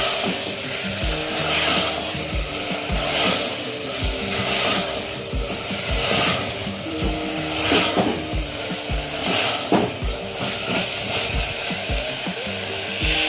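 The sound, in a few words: stirring and frying chicken rajma with green chillies in pan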